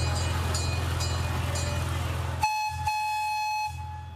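A miniature train at Fort Worth's Forest Park Miniature Railroad sounds its horn, giving a few short toots and then one long, loud blast over a low rumbling engine.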